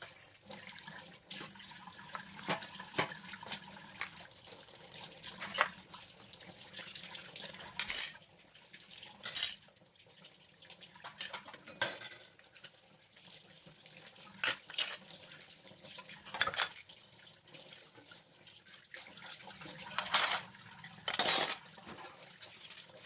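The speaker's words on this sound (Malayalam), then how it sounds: "രാവിലെ ഇന്ന് എണിച്ചിട്ട് ആദ്യത്തെ പണി പാത്രം കഴുകാണ് കേട്ടോ" Pots, plates and utensils are washed at a home kitchen sink in the morning: scattered clinks and clatters of metal and dishes over running and splashing tap water, close by, with no talking.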